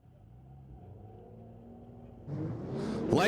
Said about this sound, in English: A very modest burnout for the Mustang up against the BMW.